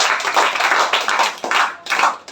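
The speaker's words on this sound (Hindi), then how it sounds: "ताली बजाओ उसके लिए।" Students in a classroom burst into a short round of clapping, several quick bursts of hand claps close and loud, with no talking over it.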